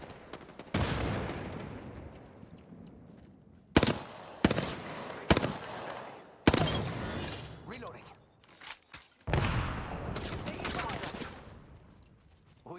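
Gunfire from the Apex Legends video game comes in loud bursts of automatic fire and sharp shot clusters, sustained across the clip, with players talking over it.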